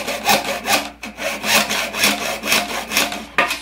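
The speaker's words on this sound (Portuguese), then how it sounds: "Essa aqui de cima agora é um pouquinho pior pra serrar." A hand saw cuts through PVC pipe in steady back-and-forth strokes, close and raspy, about two strokes per second, with a brief pause near the start and no talking.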